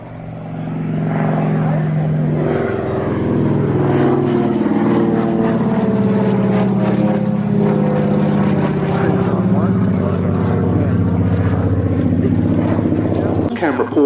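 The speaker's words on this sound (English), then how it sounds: "The Lockheed 12A Electra Junior." A Lockheed 12A Electra Junior twin-engine propeller plane flies past at an air show, its steady droning engine hum rising and holding loud and continuous, with a narrator talking over it.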